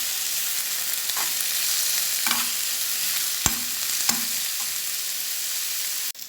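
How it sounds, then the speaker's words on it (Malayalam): Onions and curry leaves sauté in oil in a pan for ghee rice and mutton curry, a steady close sizzle with a few spoon scrapes and taps against the pan, no talking. "സവാളയും കറിവേപ്പിലയും കൂടി നന്നായിട്ട് ഗോൾഡൻ ബ്രൗൺ നിറമാകുന്നത് വരെ വഴറ്റിയെടുക്കാം"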